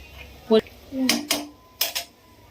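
A metal lid clanks onto a cooking pot of homemade mutton curry, followed by a few more clattering knocks of metal cookware, close and fairly loud in a quiet kitchen.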